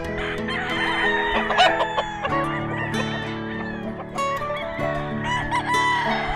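Gray cross chickens cluck steadily close by on a livestock farm, with a rooster crowing over them in a dense, continuous barnyard chorus.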